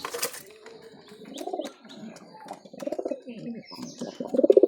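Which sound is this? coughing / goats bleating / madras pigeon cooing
madras pigeon cooing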